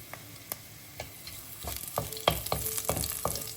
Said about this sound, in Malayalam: എണ്ണയ്ക്കകത്തോട്ട് അല്പം ചുവന്നുള്ളി, വറ്റൽമുളകും കരിയാപ്പിലയും